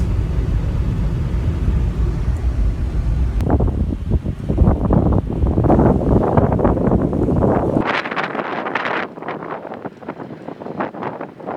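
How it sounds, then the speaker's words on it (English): Strong, cold wind in Iceland buffets the microphone with a loud, continuous low rumble and roar, shifting in intensity partway through, with no one speaking. "And it is cold and windy"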